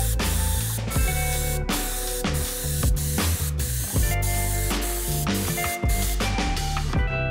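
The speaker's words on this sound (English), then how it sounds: "It sprays and feels nice." A vintage Paasche Model H airbrush sprays paint in steady hissing bursts, broken by short pauses, close up with no talking.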